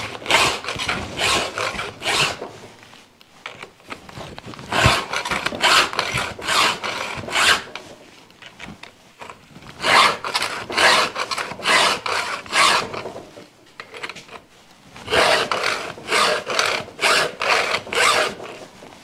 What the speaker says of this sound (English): here's what the new file sounds like when I'm sharpening the chain